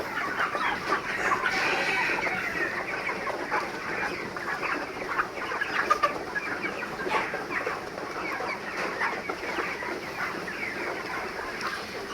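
A crowded flock of 31-day-old farm chickens clucks nonstop while feeding in the morning, overlapping calls forming a constant murmur with occasional sharper squawks standing out.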